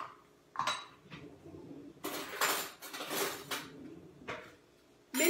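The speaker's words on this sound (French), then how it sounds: "Mélanger à la fourchette." A fork clinks and scrapes against a bowl while mixing Greek yogurt into a gluten-free bagel dough, in several short bursts of scraping with pauses between, fairly quiet and close.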